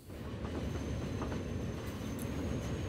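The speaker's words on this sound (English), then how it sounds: "There goes the passenger train." A passenger train in the game Transport Fever rumbles past at moderate volume, a steady low roll with faint clicking of wheels over the track, with no talk.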